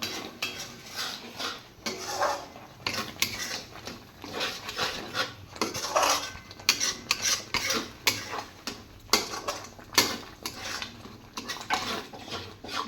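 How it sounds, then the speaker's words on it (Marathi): Yogurt and coriander powder mixture being sautéed in a pan for shahi paneer, with a utensil steadily scraping and clinking against the pan in a continuous stirring rhythm, close and moderately loud, with no talking. "हे दह्याचं आणि धना पावडरचं मिश्रण मी इथं घालून घेते पुन्हा एक छान असं दोन ते तीन मिनटासाठी परतून घेणार आहे"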